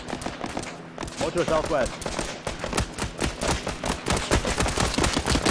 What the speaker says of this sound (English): We're shooting, guys.